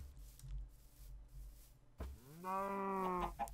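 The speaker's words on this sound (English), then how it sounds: "He said, I hope Fabe doesn't breed any cows." A single drawn-out cow moo from Minecraft rises clearly after a quiet stretch of faint game ambience, loud and close near the end, with no talking.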